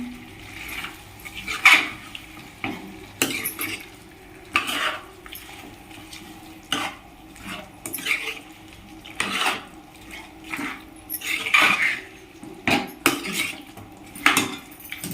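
Chicken pieces being tossed by hand with chilli powder and salt in a metal bowl, with repeated soft wet squelches and occasional clinks of metal, steady and close with no talking.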